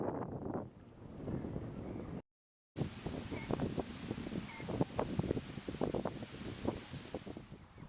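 Gusty wind sweeps across a river on a stormy day, buffeting the microphone in uneven bursts and rushes at a moderate, fluctuating level.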